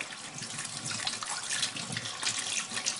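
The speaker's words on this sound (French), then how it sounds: "Donc moi je le fais sous un jet d'eau claire." Tap water running in a steady stream while mussels are rinsed under it, a continuous close splashing gush with slight variations as the shells move through the flow.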